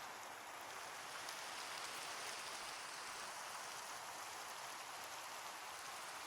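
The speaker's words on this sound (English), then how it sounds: "It's just started raining. Oh, it's actually a storm." A rainstorm in a video game hisses as a dense, even wash of rainfall, steady and unbroken throughout.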